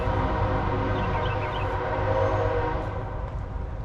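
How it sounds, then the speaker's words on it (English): A train rolls past close by, its steady low rumble and rail noise filling the scene while a horn sounds briefly, continuous and fairly loud with no talking. "Perfect timing for a train."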